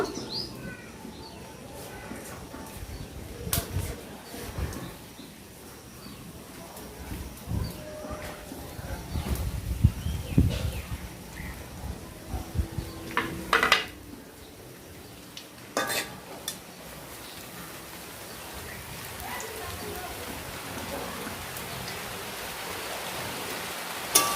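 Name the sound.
bread pieces frying in hot oil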